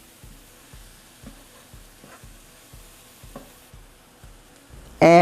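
Chili mixture with diced onions frying in a pan, stirred with a regular rhythm of soft scraping strokes roughly every half second over a faint sizzle, ending in a sudden loud burst.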